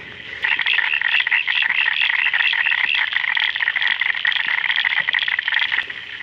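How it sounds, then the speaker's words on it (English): A dense chorus of frogs croaks loudly after rain, a continuous pulsing trill that stays steady and close throughout, with no talk. "Can you hear the frogs?"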